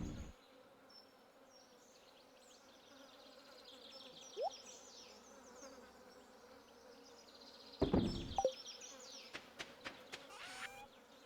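Bees buzz steadily around many beehives on a Stardew Valley farm, a continuous insect drone with scattered game effect chirps and a brief louder burst near the end.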